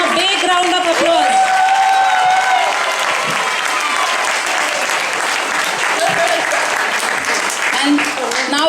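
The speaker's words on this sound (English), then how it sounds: "Please give them a big round of applause." An audience at a Janmashtami cultural program at ISKCON Melbourne clapping loudly and continuously after a drama, with voices and cheers mixed into the applause.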